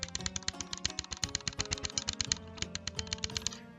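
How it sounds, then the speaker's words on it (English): One keyboard key is pressed over and over for a World of Warcraft Avenger's Shield rotation, giving a fast, even run of sharp clicks, close and clear, with no talking. "You're just going to be pressing one button and one button alone"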